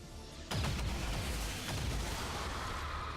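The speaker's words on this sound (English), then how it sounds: "this explosion just adds onto the other explosion" An explosion in XCOM 2 erupts suddenly as a loud, deep boom, then a second blast adds to it before a long rumbling tail that fills the rest of the moment.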